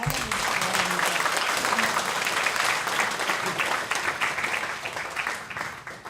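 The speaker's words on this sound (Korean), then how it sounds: "이진영님, 예, 박수 한번 주시기 바랍니다." A church congregation applauds to welcome a new member, a dense, steady wash of clapping that holds for about six seconds and tapers slightly at the end.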